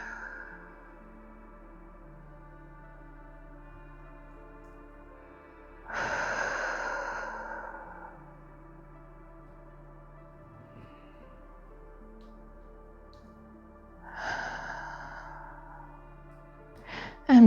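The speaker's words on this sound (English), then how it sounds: "following the air in through the nose, and the flow of it exhaling through your mouth." Two slow breath sounds during a calm yoga practice, each a soft airy exhale lasting about two seconds, spaced well apart over a quiet steady background hum.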